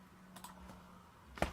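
A generic PC computer keyboard gives a few sparse, faint key presses, then one sharper, louder clack at the end, close-up and with no talking.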